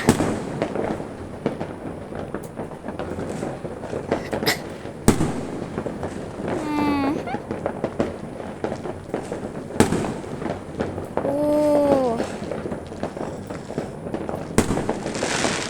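New Year fireworks pop and crackle repeatedly amid a steady background rumble, with a few sharp bangs and whistling rising streaks between bursts.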